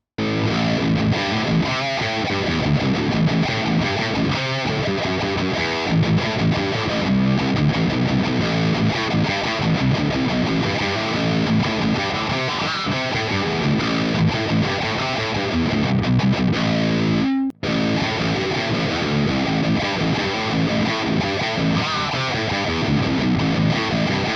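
Heavily distorted electric guitar chugging through the red channel of a Revv Generator 120 MK3 amp, dense and aggressive yet note-defined, with a brief dropout near the end before the riff resumes.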